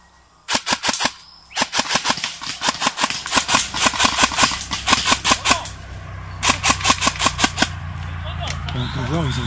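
Gunshots in a jungle-set action game, fired in quick sharp bursts of many rounds with short pauses between them, loud and close.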